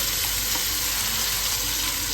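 Ground mint and coconut paste for pudina chutney frying in a pan on low heat, a continuous dense sizzle with soft stirring, steady and close with no talk.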